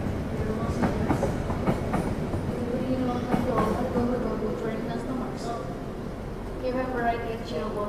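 Argo Semeru passenger train departing Cirebon station in Indonesia: a steady, close rolling rumble of wheels and carriages runs throughout, with a muffled voice over it.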